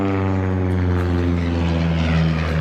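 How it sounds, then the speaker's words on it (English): A small propeller aeroplane passes low overhead at a breakfast fly-in at Birr, its engine a loud, steady, close drone with strong harmonics that holds for the whole stretch. "We've just been interrupted by a small aeroplane saying good morning to us as it flew low"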